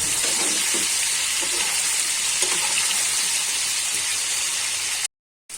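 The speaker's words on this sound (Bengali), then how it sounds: "এবারে আমি ভালো করে লাল লাল করে আলুটাকে ভেজে নেব।" Potatoes sizzle steadily in hot oil, a dense, even crackling hiss close up, ending with a brief silence.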